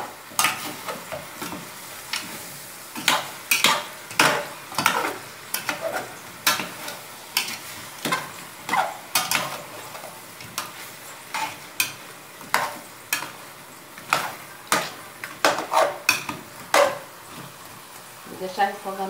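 Free-range chicken pieces being stirred and sautéed in a pan with garlic, a steady sizzle broken by repeated loud scraping stir strokes in an irregular rhythm, close up with no talking.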